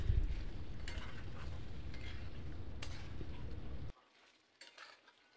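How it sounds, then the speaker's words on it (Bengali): Chicken and yogurt are sautéed in a pan for chicken tehari. A steady sizzling fry with stirring scrapes sounds up close, then stops abruptly near the end, leaving a few faint clinks. "এবার দিয়ে দিচ্ছি 2 টেবিল স্পুন টক দই, যেটা আমি হাফ টিস্পুন চিনি দিয়ে ভালো করে ফেটিয়ে নিয়েছি। এটা দিয়েও মিনিট 4 কষিয়ে নেব।"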